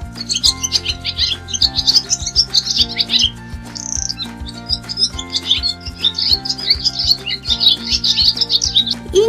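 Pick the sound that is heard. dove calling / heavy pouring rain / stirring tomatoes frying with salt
dove calling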